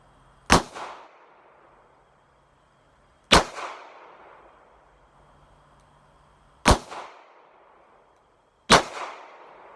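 Ruger LCR revolver firing .22 WMR rounds at a shooting range: four loud, sharp reports spaced a few seconds apart, each followed by a brief ringing decay.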